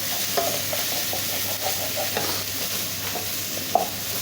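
A tomato mixture sizzles steadily in a pan on the stove while a utensil stirs it in short scraping strokes, with one sharper clank near the end.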